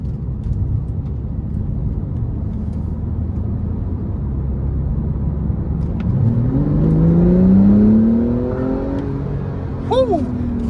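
A 2018 Porsche 911 Carrera 4S engine revs up and accelerates, its rising pitch climbing clearly over a steady road rumble, then a quick blip of the throttle at the end.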